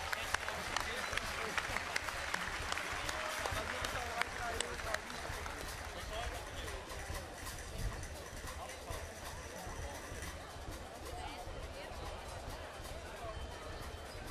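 Applause and a busy crowd at a live Frisian kaatsen show and lottery draw, dense clapping and rumbling noise that thins out over the second half, with voices mixed in.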